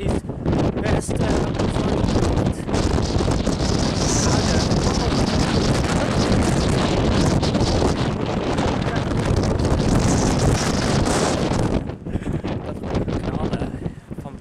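Strong wind roars and buffets the microphone steadily throughout, with a brief dip near the end.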